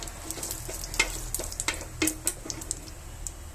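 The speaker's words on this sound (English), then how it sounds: "To it I am adding half teaspoon of cumin seeds, 2 bay leaves just made into pieces. Slightly saute for a few seconds." Cumin seeds and broken bay leaf pieces sauté in hot oil for a Goan-style coconut egg curry, giving a steady soft sizzle with scattered sharp crackles and pops.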